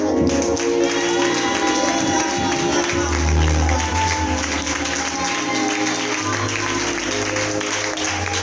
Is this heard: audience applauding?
yes